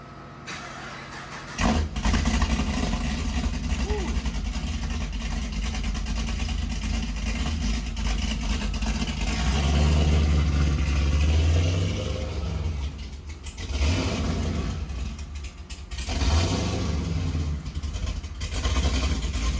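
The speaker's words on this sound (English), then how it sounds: "First start up with the new exhaust." A Pontiac G8 fitted with a new 2.5-inch exhaust cranks and fires on a cold start, then settles into a deep, rumbling idle with a few throaty blips of revving, close and loud.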